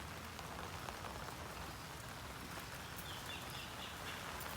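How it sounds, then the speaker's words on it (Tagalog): Heavy rain pours steadily, a dense unbroken hiss of drops on surfaces around a livestock pen housing goats, with no voices. "Ah, yan po, nalakas na naman ng ulan."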